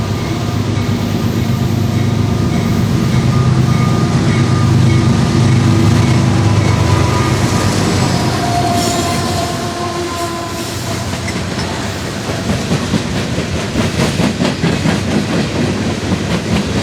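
An Amtrak passenger train from Miami rumbles past close by in Virginia, heavy steady roar with rhythmic clickety-clack of wheels over rail joints, loud throughout.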